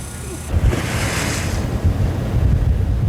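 At midnight, out at sea on a mackerel fishing boat, big waves three to four meters high surge and crash as wind gusts at fourteen meters per second roar across the microphone, loud and continuous with heavy low rumbling.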